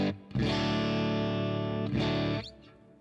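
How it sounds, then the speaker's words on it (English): Electric guitar played through light compression and a dynamic hall reverb: one full sustained chord rings out, then a second strum follows and fades into a lingering reverberant tail, with no talking. "Just have a little bit of compression, and then like this nice dynamic hall reverb."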